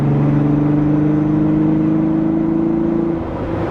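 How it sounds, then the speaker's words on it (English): A Volkswagen VR6 engine revs in a steady, loud drone, holding a smooth rising pitch for about three seconds before dropping back, heard up close with no talk. "the Vr6 sound is absolutely amazing"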